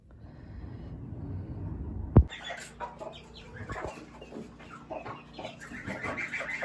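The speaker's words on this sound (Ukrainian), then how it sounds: "Ось таке у нас вже курчата." A sharp knock sounds, then soft clucking and chirping from young chicks continues nearby over a low background hum.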